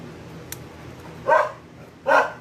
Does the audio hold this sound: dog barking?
yes